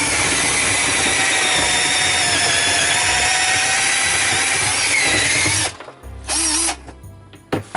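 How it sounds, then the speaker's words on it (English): A power drill bores into a hardened salt bridge inside a GE water softener's brine tank, grinding loudly and steadily for several seconds before stopping, then a couple of short bursts as it restarts. "Go into a few different spots, a few different areas, and drill down again."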